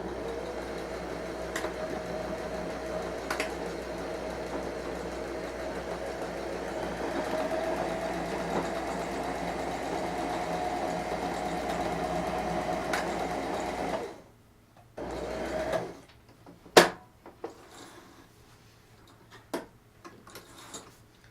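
A sewing machine stitching pant seams runs with a steady rapid mechanical whir for about fourteen seconds, then stops, leaving a few sharp clicks and small handling knocks.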